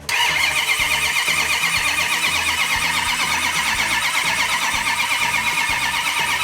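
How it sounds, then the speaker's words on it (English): A car engine cranking over on the starter without firing, a steady continuous whirring churn that holds at even loudness throughout, close and alone with no talk. "Let's crank it over for a little bit,"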